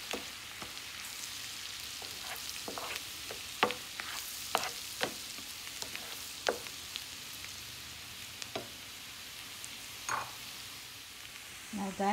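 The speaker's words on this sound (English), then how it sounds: "Keep on stirring the garlic. Don't overcook the garlic." Garlic sizzling in a frying pan while being stirred, a steady soft hiss broken by frequent scraping clicks and taps from the utensil, close and moderately quiet.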